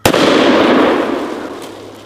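A Desert Eagle .50 caliber pistol fires one very loud shot at a watermelon outdoors, and the sharp blast trails off in a long, rumbling decay.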